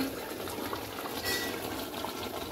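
Hot water poured from a vessel into browned mutton curry in a pan, a steady close gush and splash of liquid lasting the whole short moment, without any voices.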